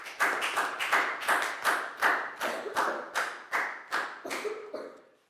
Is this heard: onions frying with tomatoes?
no